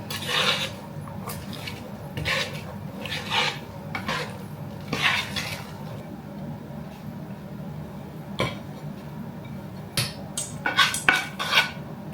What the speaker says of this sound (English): Give it all a stir.